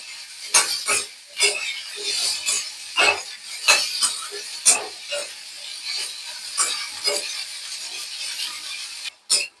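Spiny gourd (kakoda) pieces are stirred and fried in hot oil in a kadhai, a spoon scraping and clattering in repeated close strokes over a crackling sizzle, with no talk.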